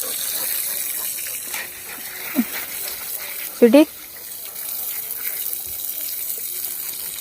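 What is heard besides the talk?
water being sprayed on dogs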